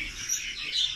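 A pigeon calls inside an aviary, a steady high chirping and twittering that carries on through the whole moment at a moderate level with no talking over it.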